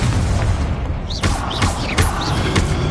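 A fiery explosion spell cast in the Hogwarts Legacy game, a dense rumbling boom with several sharp bursts and whooshes layered over continuous loud game noise.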